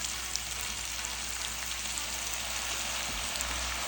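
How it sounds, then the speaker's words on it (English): Balsamic vinegar sizzles in a hot pan while an onion jam cooks for a patacon burger with bacon, giving a steady, even crackle at low volume with no pauses. "We're also going to add some balsamic vinegar."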